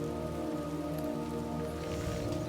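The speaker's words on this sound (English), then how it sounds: "It's raining a little" Steady rain patters on a surface in the video game Skyrim, a constant close hiss with a low hum underneath.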